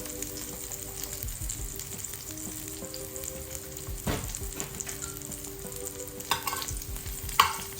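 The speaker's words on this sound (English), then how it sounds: "Stir everything around and make sure it gets coated with that oil and the salt." Vegetable stalks fry in oil with salt and are stirred around the pan. A steady, close sizzle runs throughout with clattering stirring knocks, and a sharper scrape comes near the end. No one speaks.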